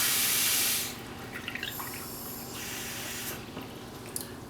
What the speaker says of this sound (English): Pour that in. That's 1 cup,